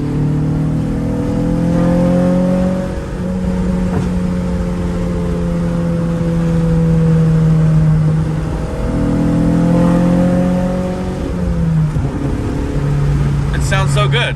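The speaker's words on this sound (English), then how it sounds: "I really do love the way the HKS sounds." A Honda Acura Integra DA9 fitted with an HKS exhaust drones and revs, its engine note rising and falling in several long pulls, loud and close, with a voice talking over it.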